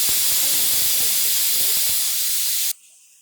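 Pressure cooker on the stove hissing out a steady loud jet of steam while dal cooks for a tamarind lentil curry, the whistle cutting off abruptly near the end to leave a faint quiet hum.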